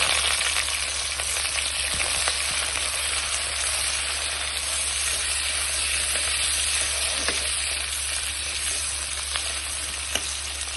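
Onions fry in hot oil seasoned with panch phoron in a wok, giving a steady, dense sizzle that runs loud and unbroken throughout, close up, with a few faint clicks.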